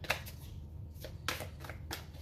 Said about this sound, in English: I want to shuffle just a little bit.